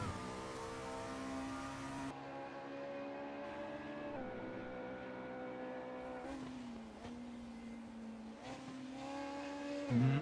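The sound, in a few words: Volvo race car engine in a sim racing video game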